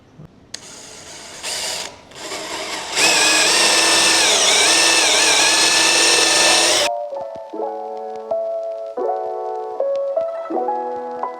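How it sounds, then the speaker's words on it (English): A power drill whines loudly and steadily as a 1-inch Forstner bit bores into wood, then slows and stops with ratcheting, clicking mechanical sounds. "So I'm gonna drill these out with a 1-inch Forstner bit"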